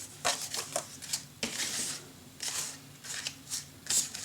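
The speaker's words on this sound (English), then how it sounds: "make your mark at the middle of the page and then cut it" Scissors cut through a scrapbook paper page in a quiet room, giving a series of soft, crisp snips and rustles in short bursts, close to the ear.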